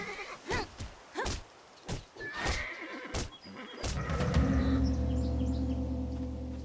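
A horse in the video game Titan Quest neighs and whinnies in several short, loud bursts, followed by a sustained tonal in-game sound at the end.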